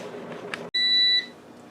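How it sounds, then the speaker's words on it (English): An air fryer timer sounds a single sharp, high electronic beep lasting about half a second, clear and close over a quiet kitchen background. "our timer just went off on the air fryer"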